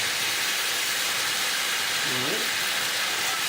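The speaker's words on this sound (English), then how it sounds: "deglaze the pan with the red wine" Red wine poured into a hot pan to deglaze it for a steak gravy gives a steady, broad sizzling hiss that fills the whole stretch, with a short spoken remark near the start.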